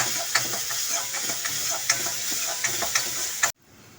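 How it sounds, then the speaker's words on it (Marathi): Chopped onion fries in hot oil with cumin seeds, a bright continuous sizzle broken by frequent sharp scrapes and taps of a spatula against the pan, close and fairly loud, ending abruptly. "कांदा छान बारीक गॅसवर लाल परतून घ्यायचा आहे."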